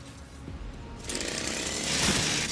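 Power-tool weapon in the Warhammer 40k Rogue Trader video game, revving into a harsh, steady mechanical grinding roar that swells louder partway through and keeps building to the end.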